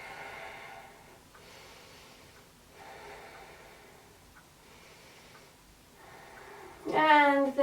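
Slow, deep breathing during a yoga flow, soft drawn-out inhales and exhales repeating at an even pace, faint and close, followed at the end by a voice speaking.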